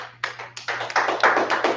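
A small group claps at a church gathering on holy days, a few sharp hand claps that quickly thicken into quick, close, uneven applause over a low steady hum.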